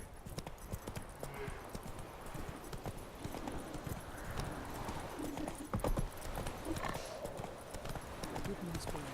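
Galloping horse hooves in The Witcher 3 video game, a steady rapid clip-clop rhythm running throughout, close and fairly loud with game music and ambience underneath and someone talking over it.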